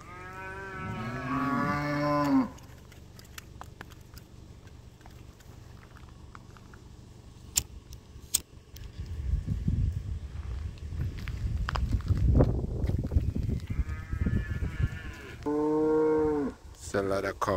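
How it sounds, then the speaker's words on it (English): Cows moo loudly on a farm in Jamaica in long, drawn-out calls, one near the start and another near the end, with rustling and shuffling movement in between. "calling the other cows"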